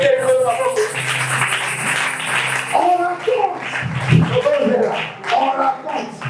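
A church congregation claps steadily and calls out in acclamation, with voices, including children's, mixed over the continuous clapping throughout.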